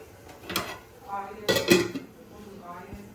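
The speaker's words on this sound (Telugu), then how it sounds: "మూత పెట్టాడు" Metal lid set onto a cooking pot of chicken for fried rice: two or three quick clanking knocks, the loudest cluster near the middle, over a quiet kitchen background.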